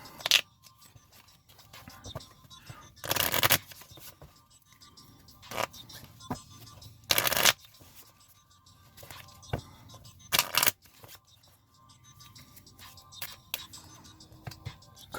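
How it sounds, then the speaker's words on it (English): A deck of playing cards for the Gears of War card game being shuffled on a table: several short bursts of riffling and rustling, separated by quieter stretches of light handling noise. "All right, shuffle."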